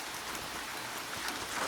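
Steady rain falls in a soft, even hiss with faint scattered drops, quiet and continuous with no voices.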